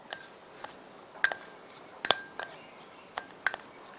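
Spoon clinking against a glass or bowl while stirring a mixture with added sesame oil and ginger in a home kitchen, several light scattered clinks spread over a few seconds, close and fairly quiet.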